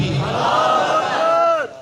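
A crowd at a religious naqabat gathering shouts a drawn-out collective reply to the slogan. Many voices blend into one sustained, fairly loud cry that holds steady, then cuts off sharply near the end.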